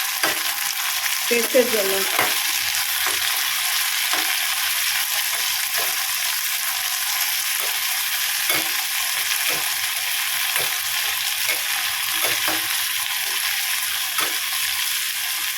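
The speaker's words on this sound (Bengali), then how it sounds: "তেলে আগে সবজিগুলো ভেজে নিই, তেলটা গরম হলে" Vegetables fry in hot oil with a loud, continuous hiss and crackle, punctuated by regular clicks and scrapes of a spatula stirring the pan; a short spoken phrase occurs early on.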